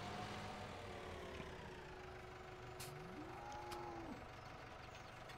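Cattle mooing in the farming game Farming Simulator 17: a couple of drawn-out, low moos rising and falling over a steady hum of farm machinery, moderately loud with no talking.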